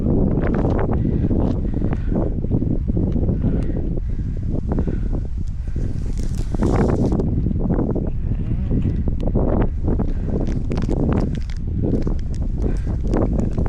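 Strong wind roars steadily into the microphone throughout, a constant buffeting rush with occasional faint animal bleats in the background.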